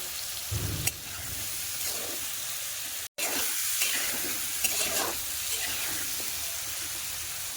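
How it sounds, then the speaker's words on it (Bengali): Ridge gourd frying with spices in a pan for Bengali koi fish curry gives a steady, close sizzle with occasional stirring scrapes, continuous apart from a momentary cut partway through. "ঝিঙ্গাটা অল্প ভাজা হওয়ার পরে তারপরে মশলা দিয়ে ফ্রাই করব।"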